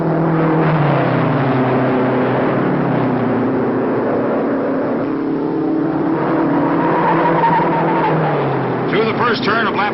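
Vintage 1955 race cars driven by McGrath and Vukovich roar through the first turn of a lap, engines droning loudly and continuously with rising pitch near the end, under a commentator's voice.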